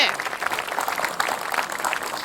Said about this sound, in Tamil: அடாடா குழந்தைக்கு வந்து நல்ல பெரிய கைத்தட்டலா கொடுக்கலாங்க.